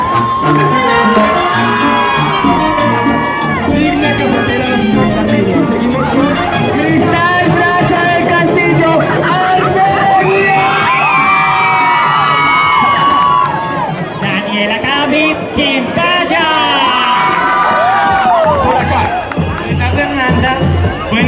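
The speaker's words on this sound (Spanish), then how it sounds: "Escúchese fuerte aplauso para la reina" Crowd at a transformismo pageant cheering and applauding for the newly crowned queen, loud and sustained, with shouts, babble and music-like tones mixed throughout.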